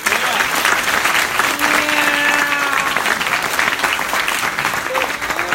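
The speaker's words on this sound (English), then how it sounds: "So let's give a round of applause to USC." A community demo day audience breaks into steady, dense applause, a continuous wash of many hands clapping in a large room, with a few voices calling out over it.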